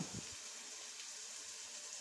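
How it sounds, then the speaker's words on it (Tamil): Water poured from a cup into a pot of marinated bone-in mutton for pepper mutton, a steady soft splashing hiss that runs alone for about two seconds. "கப்பு அளவுக்கு நான் தண்ணி விடுறேன்"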